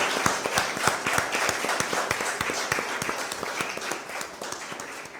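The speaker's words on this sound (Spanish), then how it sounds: "Gracias y un aplauso por favor a Ale." Audience applause for a young speaker at a university creativity talk in Hidalgo: dense, steady clapping from many hands, moderately loud throughout, with no voices over it.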